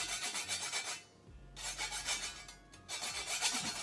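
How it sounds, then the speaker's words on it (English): Whole nutmeg is grated on a small grater in quick, soft rasping bursts, three runs of strokes split by short pauses, close but quiet, with no talking. "I'm not going to grate the whole thing because I don't want it to be overpowering with nutmeg"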